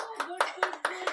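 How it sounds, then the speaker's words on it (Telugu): Several distinct hand claps in a quick, fairly even rhythm, close by and crisp, with voices talking alongside them in a home setting. "క్లాప్స్ కొడుతున్నారు చూడు అందరూ."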